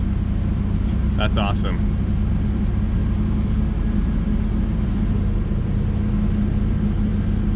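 A Nissan 300ZX Z31 engine, fitted with a new crank angle sensor, idles with a steady low rumble throughout after firing right up, while a person briefly speaks over it.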